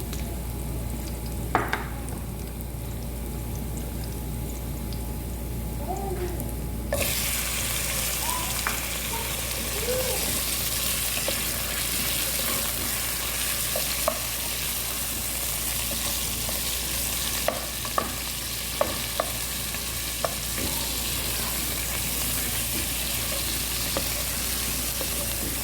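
Chicken fries in a pot for chicken soup with malunggay, sizzling loudly and steadily for a long stretch while a utensil scrapes and clinks against the sides now and then.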